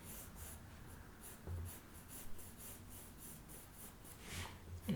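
Pencil shading on paper while drawing a Stormtrooper helmet, a soft continuous scratchy rub of graphite strokes with steady rhythmic texture, close and fairly quiet, no talking.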